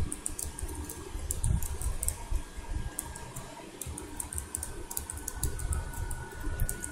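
Keyboard typing on a computer while a CakePHP page title is entered, a steady run of close, crisp key clicks over a low room hum, with no talking.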